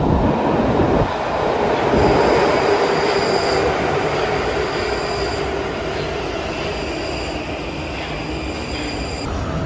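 Prague metro train running through the underground, a loud continuous roar of wheels and rails with high metallic squeals layered on top, steady throughout and close by.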